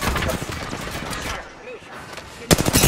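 Rapid gunfire in the video game Apex Legends during a high school tournament match, with dense bursts through most of the clip, a brief lull, then a loud close volley at the end, with faint voice chatter underneath.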